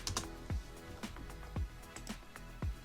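Keys on a computer keyboard are tapped in a quiet, sparse rhythm, several distinct soft clicks spaced about half a second apart at close range.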